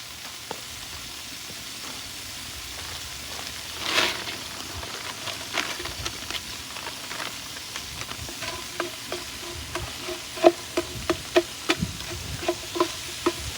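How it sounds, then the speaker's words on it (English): Frozen meat for jambalaya sizzles and crackles steadily in a hot pot on a wood-fired rocket stove, with sharp pops growing more frequent toward the end as the water boils off, close up and fairly loud. "you can hear it frying, and that water from the frozen is pretty much boiled off"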